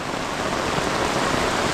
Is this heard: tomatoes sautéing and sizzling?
no